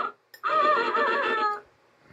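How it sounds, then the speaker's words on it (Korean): A donkey cries out in pain with one loud, sustained, strained bray-like scream lasting about a second, heard close and alone after a brief click. "당나귀는 온 들판이 떠나갈 만큼 비명을 지르면서 걸음아 날 살려라 도망쳤습니다."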